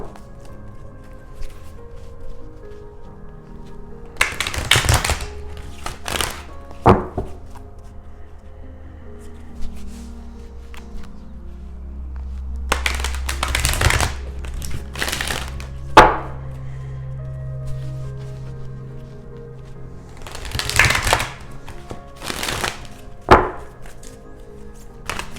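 Oracle cards are shuffled in several short, crisp riffling bursts, close and separated by long quiet gaps.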